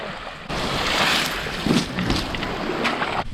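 Sea water surging and rushing in around a tent on a northern shore, a broad wash of splashing and wind noise that starts abruptly and runs steadily before cutting off.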